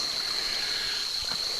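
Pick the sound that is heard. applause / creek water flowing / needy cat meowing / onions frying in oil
creek water flowing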